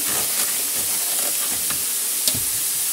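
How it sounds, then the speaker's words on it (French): Water drains down through a sink siphon under a kitchen sink, a steady rushing hiss and gurgle that runs the whole time without pause, close by and fairly loud, with a few brief splashy bursts and no voices. "comme vous voyez, l'eau va s'évacuer comme ça"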